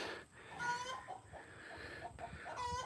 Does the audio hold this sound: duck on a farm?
yes